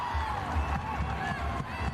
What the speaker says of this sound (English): appreciates the applause from the crowd